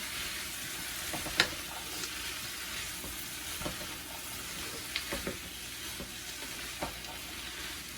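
Potatoes and vegetables fry in a pan with a continuous sizzle, broken by occasional scrapes and taps as they are stirred together, close by with no voices.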